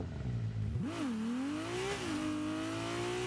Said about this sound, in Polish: I dźwięk silnika.